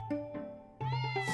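Several kitten meows in quick succession, clear and close, with a brief pause before a louder, higher run of mews at the end.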